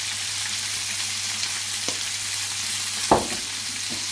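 Salmon fillet frying in a pan with lemon juice and soy sauce, a steady broadband sizzle throughout with a sharper splatter burst near the end, no voices.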